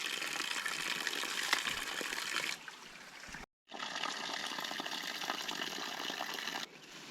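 Natural mountain water flowing in a forest, a steady broadband gush and trickle, close and continuous, with a brief gap midway and no talk.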